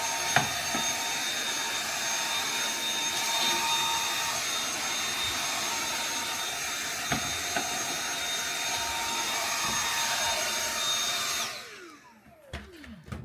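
A Dyson cordless vacuum runs steadily while cleaning debris from the inside glass of a stove oven door, a loud continuous whine that cuts off near the end, leaving a few faint clicks and handling noises.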